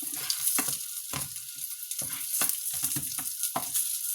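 Fish cakes fry in a pan with a steady hiss of sizzling oil, broken by a series of soft scraping and turning knocks as they are moved around, close and continuous without talk.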